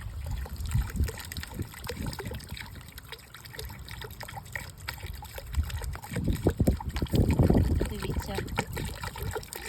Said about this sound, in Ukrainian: Заливаємо все водою.